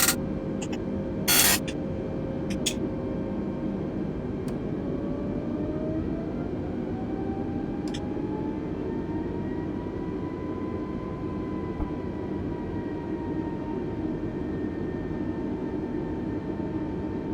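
An airplane's engines spool up for takeoff in Microsoft Flight Simulator 2020, a steady loud drone with a tone that slowly rises and bends over the full length, and a few brief clicks near the start.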